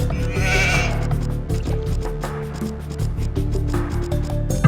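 Sheep bleat loudly in the Age of Empires 2 game, several wavering cries layered over soft game music, close and clear.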